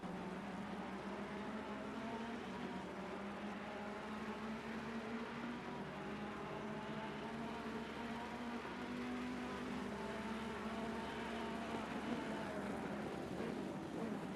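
Ferrari and BMW race cars circling the Misano circuit in a six-hour endurance race, a continuous engine whine and whir that drones at moderate level, with gear and pitch shifts layered over a steady low rumble.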